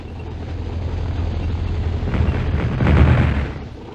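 An airstrike explosion in the Army Men video game: a long, rolling low boom that swells to a heavy peak near the end before fading, with no voices over it.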